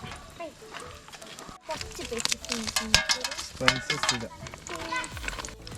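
Spices are stirred in a pan of coconut oil over a low flame while cooking chicken kurma, giving a sizzle and scraping that rise and fall in irregular bursts. Someone talks over the stirring.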